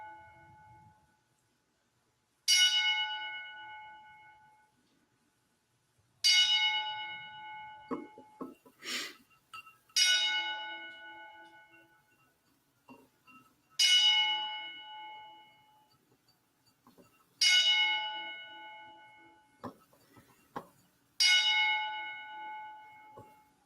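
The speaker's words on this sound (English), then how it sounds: "join us as we take a moment of silence here with the 10 bell salute" A tolling bell strikes six times at spaced intervals as part of a ten bell salute, each clear ringing stroke decaying slowly into near silence, with faint handling noises between.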